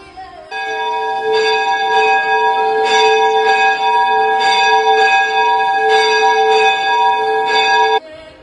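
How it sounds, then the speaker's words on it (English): Church bells ring loudly and continuously, with repeated rhythmic strikes over a sustained ringing hum that stops abruptly after several seconds. "Church bells could be heard echoing daily for announcing the services are about to begin."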